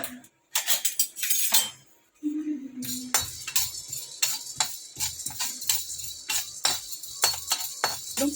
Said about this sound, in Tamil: நல்லா நல்லா ஃப்ரை பண்ணிக்கோங்க. நல்லா கிண்டிக்கோங்க.